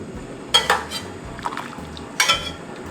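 Tofu blanches in a pot of boiling water, heard as a low bubbling rumble beneath a few sharp metallic clinks and scrapes of a utensil against the pot, close and without speech.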